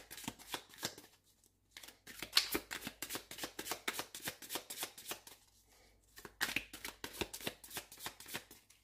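Close, crisp riffling and slapping of a green magic tarot deck being shuffled. The quick card flicks come in two long runs separated by a brief pause.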